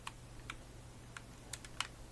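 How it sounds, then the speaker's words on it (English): Typewriter in the video game Fallout 4, faint scattered key clacks, about eight irregular taps at a distance over a low steady hum. "Typewriter."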